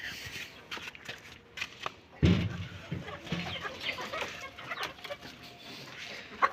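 Hens cluck in a small backyard mini zoo as a cat is brought among them, soft intermittent clucks and rustling with a sharper burst partway through, at moderate distance.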